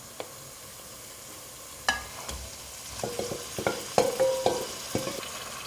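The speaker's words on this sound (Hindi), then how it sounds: "ये मटन डालूँगी जो मैंने मैरिनेट किया था" Marinated mutton going into a pan of golden fried onions, with a sudden sizzle followed by clattering stirs and scraping strokes over a low frying hiss; no voices.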